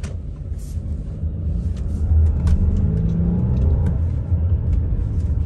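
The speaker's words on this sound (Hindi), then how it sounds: "जैसे ही मैंने थ्रॉटल पे टैप करा बहुत ही अच्छा रिस्पॉन्स मिला, और इवन थोड़ा सा इसने ट्रैक्शन भी लूज करा ड्यू टू द पावर" Audi A6 sedan accelerating after a throttle tap, a low engine rumble and road noise swelling midway and holding steady, with faint higher ticks above, no talk.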